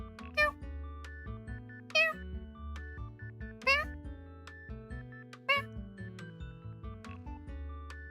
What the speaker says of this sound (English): Thing 2 will join Thing 1 in meowing, but it'll be like the tiniest little meows